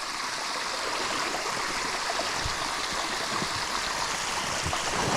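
Spring water flows out from among tree roots into a small forest stream, giving a steady, close, continuous rushing and gurgling with no voices.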